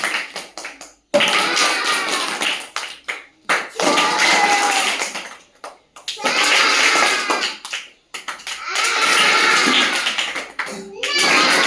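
Children in a first-grade classroom math game clap their hands in several loud, sustained bursts with short pauses between, close by, mixed with a teacher's voice and kids chattering.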